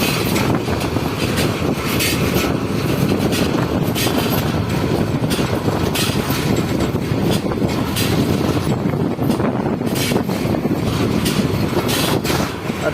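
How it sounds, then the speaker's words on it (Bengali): A moving passenger train during Eid travel near the Jamuna Bridge, heard from on board as a loud, continuous rumble of wheels on rails mixed with wind rush, with no talk. "আর আমাদের ট্রেন ছুটে চলছে।"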